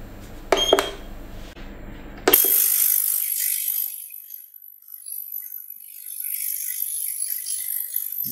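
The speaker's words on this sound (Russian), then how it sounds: "Вот, начинается ультразвуковая обработка." An ultrasonic bath starts up on a full tray of about 750 ml of liposomal vitamin C solution: a few clicks, then a steady high-pitched hiss and whine that stays close and fairly loud, with no talk.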